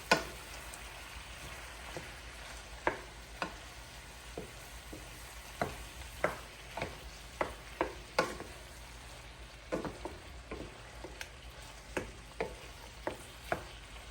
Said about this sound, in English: So we're going to continue to stir until our shrimp is at that nice color that we're looking for.